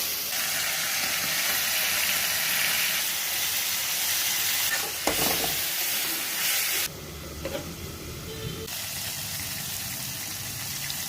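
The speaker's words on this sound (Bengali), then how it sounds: "ও কপিগুলো তো ভাজতে হবে" Cauliflower florets fry in a pan at home with a steady, close sizzle and hiss, briefly stirred midway, then the frying quiets to a softer crackle toward the end.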